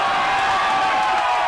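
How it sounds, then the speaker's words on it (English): A football crowd at the 2020 Colliers Shield grand final, a brief steady wash of cheering and noise from the stands, loud and continuous. "You really hear the crowd getting into this."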